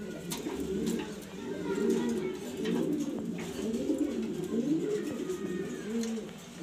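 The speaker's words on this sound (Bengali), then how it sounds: "এরকম সুন্দর সুন্দর কবুতর আপনারা সবাই পালেন, আমি জানি" Pigeons coo in low, rolling, repeated calls, fairly close and continuous, with faint clicks in the background.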